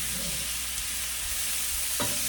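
Zucchini and red onion sizzle steadily in a hot pan, a dense continuous frying hiss with a brief stirring scrape near the end.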